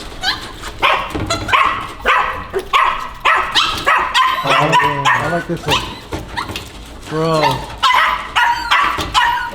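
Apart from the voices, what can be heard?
puppies barking and whimpering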